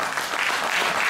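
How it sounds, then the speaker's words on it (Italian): Audience applause fills a theatre during an evening orchestra and music show, a steady, dense wash of many hands clapping at close range with no voices over it. "Applauso."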